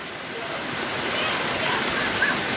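Parikkad waterfall near Vengara pours in a steady, close rushing roar of flowing water, swollen after rain, running continuously with no break.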